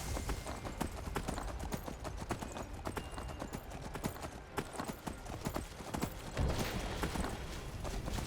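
Horse hooves pound in a rhythmic, steady clip-clop gallop while riding in the video game Skyrim, heard up close and continuous over faint background sound.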